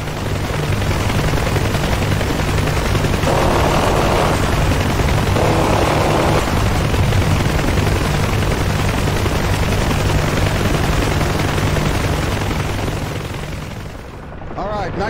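A door gun on a UH-1H Huey in DCS World fires at ground vehicles, loud dense continuous gunfire over a steady rotor thump, easing off briefly near the end.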